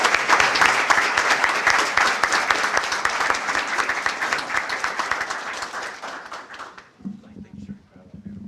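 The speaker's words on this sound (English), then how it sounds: "Can we give him a round of applause," A room at a city council meeting gives the police chief a dense round of applause that fades after about seven seconds, followed by quiet talk.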